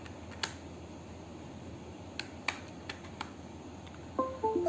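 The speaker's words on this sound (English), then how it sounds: "So I'll connect the keyboard here with the USB port." A Zebronics Zeb KM2100 USB keyboard is plugged into a laptop's USB port: a few faint, sharp clicks spread over several seconds, then a quick run of short, bright electronic blips at the end, over a low steady hum.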